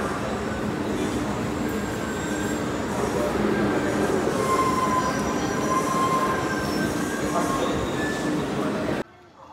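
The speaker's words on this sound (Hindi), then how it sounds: "मेट्रो वाली जो है वो ट्रेन पहुँच गई है" A metro train pulls into a station on the way to Beijing South Railway Station, loud rumbling wheels with high squealing tones throughout before the sound cuts off abruptly near the end.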